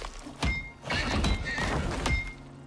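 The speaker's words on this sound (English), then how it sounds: "Oh look, a horse." A horse neighs and whinnies in the survival video game Icarus, with loud repeated whinny bursts and hoof-like thuds close by, no talk over it.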